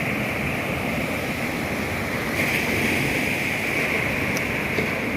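Steady ocean surf washing onto Nam Rin Beach in Ban Chang, Rayong, Thailand, a continuous broad roar of breaking waves with no voices, fairly loud and even throughout.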